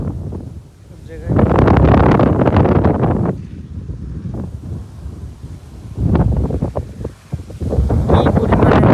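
Strong wind blows across an open field in Saidpur, buffeting the microphone in loud, rumbling gusts that surge, ease off, then surge again.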